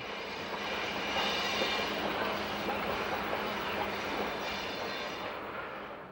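The Grand Canyon Railway steam train rolls through Coconino Canyon toward the Grand Canyon, a steady broad rumble of the moving train that swells and then slowly fades, heard alone without talking.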